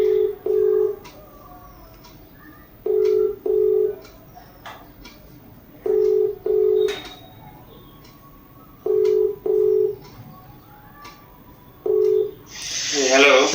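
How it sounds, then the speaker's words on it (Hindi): Telephone tones sound while a phone call is placed, paired electronic beeps repeating about every three seconds over a quiet line, with a brief voice near the end. "आइए हम फोन करते हैं"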